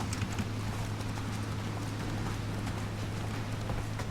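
Roach, the horse in The Witcher 3 video game, gallops in a rapid, steady clip-clop of hooves over a constant low game hum, with no talking.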